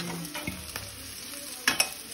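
Potatoes frying in a pan while being stirred, a faint sizzle under a few soft scraping strokes and two sharper clicks near the end.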